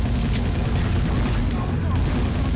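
Gunfire in the video game SiN: Wages of SiN, a steady dense barrage of shots and booms filling the whole moment, loud and continuous with no pauses.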